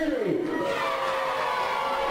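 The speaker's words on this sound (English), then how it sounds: "this bumper crowd at the Tameside Stadium have a goal for the home side to cheer" A bumper home crowd at Tameside Stadium roars for Curzon Ashton's equaliser against Cammell Laird in an Evo-Stik Division 1 North match, a broad, steady swell of cheering that carries throughout.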